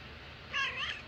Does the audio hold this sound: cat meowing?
yes